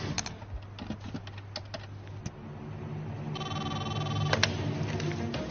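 Someone dials a telephone with a series of quiet clicks and key taps, followed by a steady ringing tone in the background.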